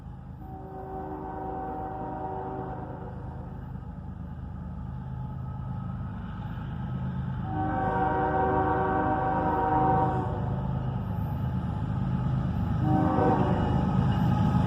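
A northbound empty hopper train passes a level crossing at night near a gas station, its horn sounding in long sustained blasts over a steady rumble of wheels that builds louder toward the end.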